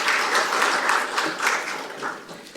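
Applause from the audience at a Korean National Assembly forum proclaiming the training of national strategic maritime officers: steady, dense clapping from a sizable crowd, fairly even throughout and slowly tapering near the end, with no voices over it.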